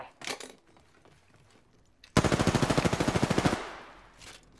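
Automatic gunfire in the battle royale game Apex Legends: a loud, rapid burst of about fifteen evenly spaced shots lasting over a second, preceded by a few fainter distant shots.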